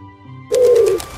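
Pigeon cooing in a children's animal-sounds game, a single short loud coo close up, coming in over a quiet musical backing.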